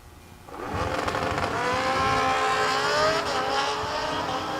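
Drag racing cars, including Bobby Trunnell's 33 Roadster, launching at a drag strip: a sudden loud engine surge with rising revs climbing through the gears, sustained and close, without speech.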